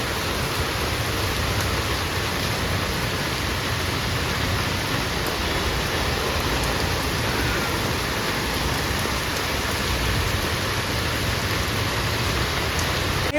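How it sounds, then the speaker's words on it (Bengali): Heavy rain pours down outdoors in a steady, dense roar that holds evenly from start to finish, with no voices. "জোর বৃষ্টি হচ্ছে।"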